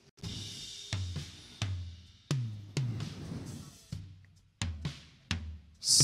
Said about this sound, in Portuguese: vou mostrar o som dos tons agora